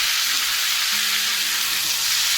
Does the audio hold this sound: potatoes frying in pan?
yes